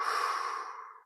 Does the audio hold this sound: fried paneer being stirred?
no